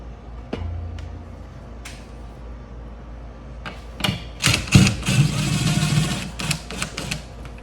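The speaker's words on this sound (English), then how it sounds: "I'm gonna screw this couple of screws back in place." Screws are driven into the brackets of a Rachio 3 smart sprinkler controller, starting with a few sparse clicks, then a burst of close ratcheting and scraping from the screwdriver toward the end.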